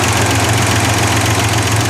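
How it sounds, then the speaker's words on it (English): An older car engine idles with noisy valve lifters after a fuel pump and water pump replacement and a tune-up. The engine holds a loud, steady, close rumble with a constant ticking knock and no speech. "the lifters are a little noisy, but they're supposed to be. That's just the way this engine is."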